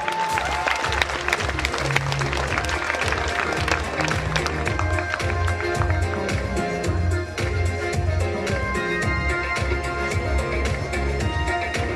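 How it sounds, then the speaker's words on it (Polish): Audience applause at a local sports gala as a nominated coach is welcomed, steady clapping mixed into loud upbeat music playing over the hall throughout. "Wielkie brawa, proszę Państwa."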